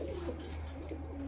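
Tumbler pigeons cooing close by, soft low throaty coos rolling over a steady background hum, with no talking.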